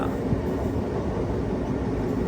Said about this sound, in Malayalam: ട്രെയിൻ ഇപ്പോൾ തുറവൂർ റെയിൽവേ സ്റ്റേഷനിലെത്തിയിരിക്കുകയാണ്